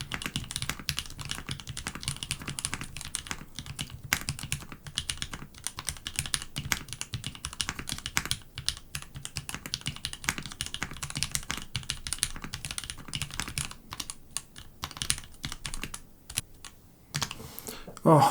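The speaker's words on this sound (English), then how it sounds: "Obviously that was a terrible typing test because I got almost no words right" Rapid continuous typing on a Melgeek Mojo68 mechanical keyboard during a typing test, dense close clacking keystrokes with no pauses.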